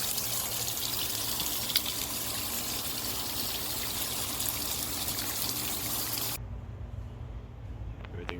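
Water rushes steadily out of a drain line while a rebuilt water softener is flushed, a loud continuous hiss and gush that drops abruptly to a quieter trickle near the end.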